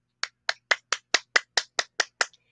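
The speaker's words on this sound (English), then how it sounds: "let's give a clap for Dominic" Ten evenly spaced, crisp claps ring out in a quiet classroom, a short steady round of applause for a student, close and distinct with silence between each clap.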